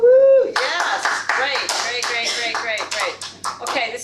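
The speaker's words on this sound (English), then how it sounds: "Okay, this is me clapping still." A single person clapping their hands close up, about a dozen sharp claps in a slightly uneven rhythm, following a brief vocal whoop at the start.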